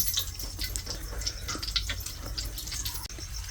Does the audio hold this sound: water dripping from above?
yes